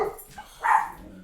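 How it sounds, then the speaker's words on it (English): A single dog barks once, short and a little distant, after a faint low whine, in an otherwise quiet room. "Occasionally if you guys hear a bark, don't be scared."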